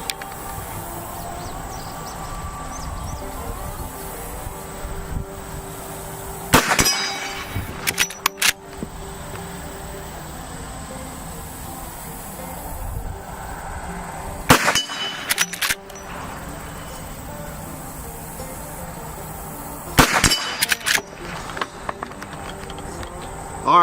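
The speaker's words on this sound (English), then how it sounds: "we put 3 shots down range there, all of them dead center right in the middle of those metal plates" Three lever-action rifle shots ring out as sharp, loud cracks with metallic clangs from steel plates struck at 50 yards, spaced several seconds apart over steady outdoor background noise.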